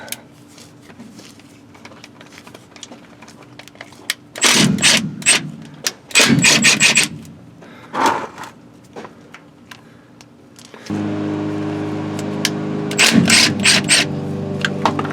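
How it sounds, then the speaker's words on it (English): A 1/2-inch impact wrench hammers out the differential cover bolts on a 454 C10 truck, firing in several loud, rapid rattling bursts separated by short pauses, with a steady mechanical hum under the later bursts. "Got a 1/2 inch here. Start blasting differential bolts out."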